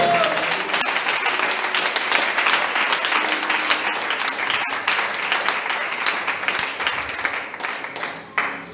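Church congregation clapping together in a dense, steady wash of applause that holds for several seconds, loud and close, with voices mixed into the sound.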